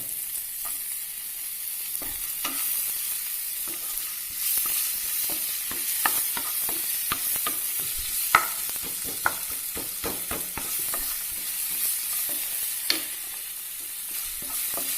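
Chopped onion fries in hot oil with a steady sizzle, scattered crackles and occasional stirring clicks, close by and without talking.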